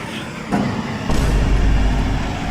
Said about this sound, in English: This guy right here is hauling one of the new F-150s on the back of his truck.